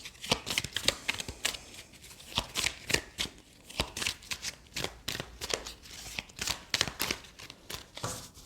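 Tarot cards are shuffled close up in quick, rhythmic riffling bursts of papery slaps and flutters, repeated steadily and fairly quietly with no talking.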